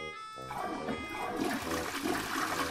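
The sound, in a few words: toilet flushing in the video game Who's Your Daddy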